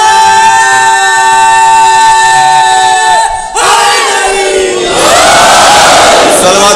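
A large crowd at a religious gathering roars a slogan in unison, a loud sustained chant of many voices that surges after a brief pause and swells again, close and powerful.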